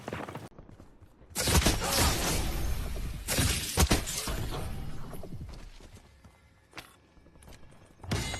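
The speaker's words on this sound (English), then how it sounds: "somebody using the ice staff in Warzone" An ice staff attack in Call of Duty Warzone gameplay: loud bursts of shattering, crackling ice, with a long sustained icy blast in the middle and shorter cracks at the start and end, separated by quieter footstep-like gaps.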